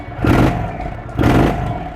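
An Indian Chief motorcycle's air-cooled big-twin engine revs twice in its mildest tour riding mode, each throttle blip swelling and easing back over a steady idle rumble close by.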